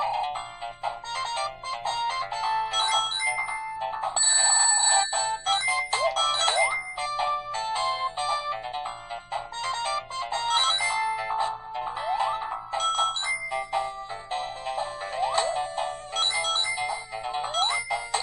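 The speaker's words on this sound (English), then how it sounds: "the games were playing fine, but the audio is definitely slowed down" Sega Mega Drive game music and effects running on an X12 Chinese handheld emulator, the audio slowed and dragging, a dense continuous stream of melodic chiptune tones at moderate level with no speech.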